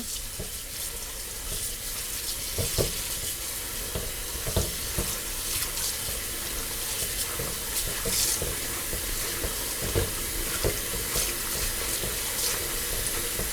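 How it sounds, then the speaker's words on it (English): Collard greens rinsed and drained in a sink basin of water, with steady splashing and sloshing plus scattered squelches and knocks as the leaves are squeezed and moved around, close and continuous. "we will be draining and rinsing several times, and you really want to smush these around"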